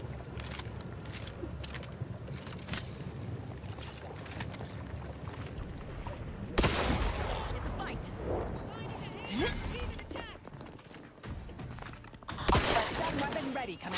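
Bursts of gunfire and explosions in The Outer Worlds 2, fairly loud, running in a steady barrage with sharp louder blasts standing out, while voices talk over the fighting.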